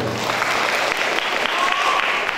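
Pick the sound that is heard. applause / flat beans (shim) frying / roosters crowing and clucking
applause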